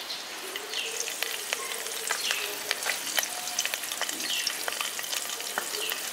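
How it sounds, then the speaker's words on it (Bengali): Cumin, dried chillies and curry leaves fry in hot oil for village-style poha polao, a steady crackling sizzle dotted with sharp pops and spatula scrapes, close and fairly quiet. "ফোড়নে জিরে শুকনো লঙ্কাটা দিয়ে দেওয়ার পর কারি পাতাটা দিয়ে দেবেন"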